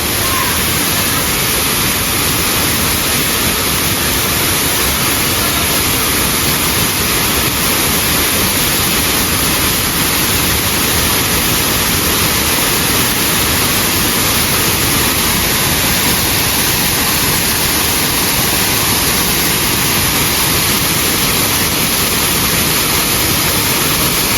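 A loud, steady rush of falling water from Curug Cikondang waterfall in South Cianjur, Indonesia, roars without pause, a dense wall of hiss filling the whole stretch.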